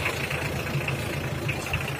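Hyundai Porter truck engine idling at a steady, close, even chug with a faint knocking rhythm, alone and without talk.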